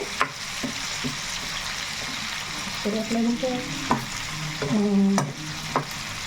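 Chicken curry fries in a pan under a steady, loud sizzle while a utensil stirs and scrapes it, with squeaky scraping strokes and a few sharp knocks against the pan.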